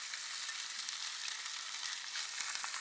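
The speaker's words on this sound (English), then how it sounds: "We're gonna start with the corn and let that start cooking up and developing its sugars." Corn kernels fry in a large skillet for a sweet-and-spicy corn pasta sauce, giving a steady, dense sizzle that stays even throughout, close and continuous with no voices.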